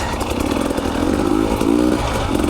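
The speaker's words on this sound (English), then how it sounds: "gotta turn the idle up on this bike" A 2020 dirt bike engine idles close by with a fast, throbbing putter and slight uneven surges, loud and continuous with no voices.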